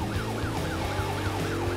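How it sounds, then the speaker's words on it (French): A cartoon police car siren wails loudly and steadily in a rapid rising-and-falling cycle over a low engine rumble, with no speech. "On dirait une sirène de police."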